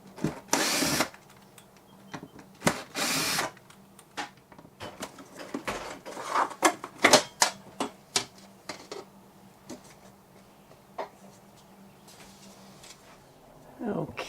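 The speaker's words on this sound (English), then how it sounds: "So I'll start pulling all those screws out." Screws being backed out of a small RV slide-out window frame, with scattered short whirring bursts and clicks of a tool across a quiet interior and a steady low hum beneath.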